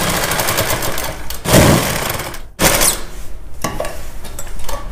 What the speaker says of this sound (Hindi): इसके ऊपर एक पैर की सिलाई ऊपर की साइड से हम मार देंगे, इसमें और ज़्यादा मजबूती आ जाएगी।